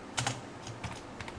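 Keystrokes on a computer keyboard while writing HTML link text, a handful of quick, light, close clicks in short bursts with no talking.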